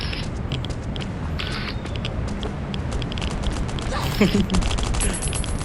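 Gunfire in the survival shooter Last Island of Survival, scattered rapid shots and short bursts crackling through a dense, noisy battle mix, with voices talking underneath.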